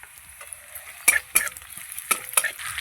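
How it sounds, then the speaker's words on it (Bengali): Onion frying with chopped green chilli in hot oil for an egg devil snack, a steady sizzle broken by several sharp spatula scrapes and stirs close by, with no voices. "পেঁয়াজটা একটুখানি ভাজবো"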